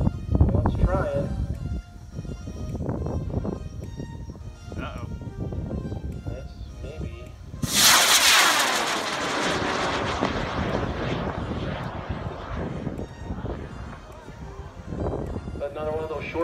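A Loki K350 rocket motor ignites and launches a 54mm minimum-diameter Wildman M2 rocket, a sudden loud broadband roar bursting in midway and then fading into a long rumbling trail as the rocket climbs away, with outdoor voices before.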